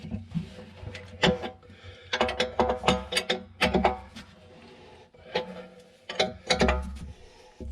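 Ratchet wrench clicking in repeated bursts while wheel bolts are run onto the duals of a John Deere 4430 tractor, with metallic clatter of bolts and parts between the quick ratcheting strokes, close and fairly loud.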